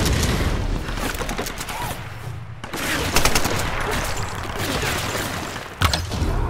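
Tomb Raider game combat, with sustained rapid gunfire and explosive booms that fill the mix nearly without pause, one short dip, then a sharper blast near the end.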